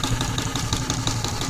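A Case steam tractor engine runs steadily, a rhythmic mechanical chugging with a regular beat, close and fairly loud with no voices.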